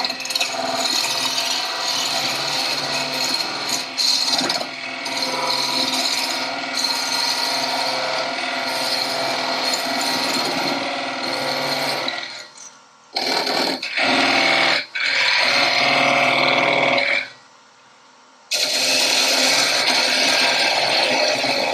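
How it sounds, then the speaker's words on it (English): A parting tool cuts into a spinning workpiece on a wood lathe at a woodturners' club meeting, giving a loud, continuous scraping and grinding rasp broken by a few short pauses before the cut resumes. "The thing with the parting tool is you have to keep advancing the tool forward as it goes into the work"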